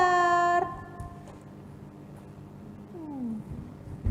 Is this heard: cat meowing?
yes